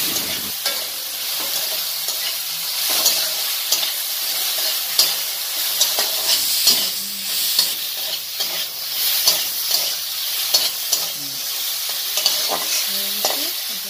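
Vegetables frying in a pan with cumin and chili powder, stirred steadily: a continuous bright sizzle with repeated scraping and clattering strokes of the spoon throughout, close and fairly loud, no talking.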